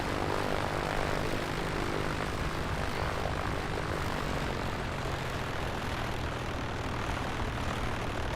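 A Piper Comanche propeller plane taxiing in Microsoft Flight Simulator 2024, with a steady, continuous engine drone and low propeller hum that holds at an even level throughout.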